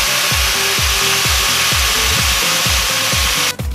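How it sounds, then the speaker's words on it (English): Angle grinder fitted with a cutting disc slicing through a scrap metal ball, a loud continuous grinding roar with a rhythmic pulsing about three times a second, close and alone, cutting off near the end. "You'll need a cutting disc on a grinder."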